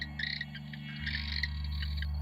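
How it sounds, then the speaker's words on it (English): A masked cave frog gives a high, canary-like trilling call in short repeated bursts, close and clear over a steady low hum in the background, with no talking. "They have a call, a little trilling call, a little bit like a canary."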